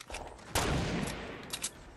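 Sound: gunshots in a video game

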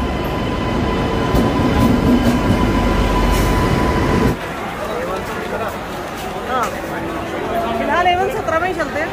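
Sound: train arriving at station

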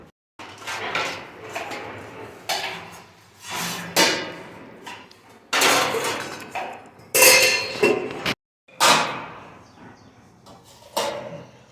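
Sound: washing dishes, clattering utensils

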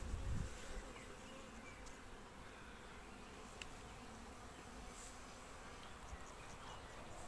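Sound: honey bees buzzing in an opened hive

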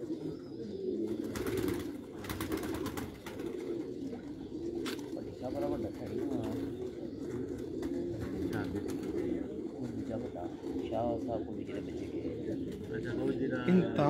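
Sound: Sialkoti pigeons cooing

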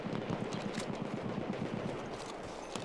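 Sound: gunfire from a headshot in Battlefield 1 (video game)

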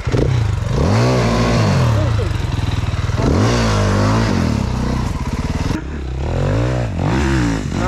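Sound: Honda motorcycle engine started and revving

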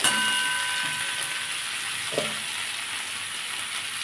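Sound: spices frying in a pan

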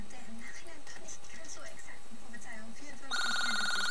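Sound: telephone ringing during game recording

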